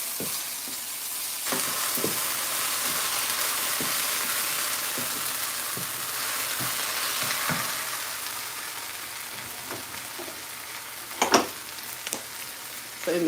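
Food sizzles and fries steadily in oil in a home kitchen pan as it caramelizes, a dense continuous crackle with occasional stirring scrapes and a few louder clatters near the end.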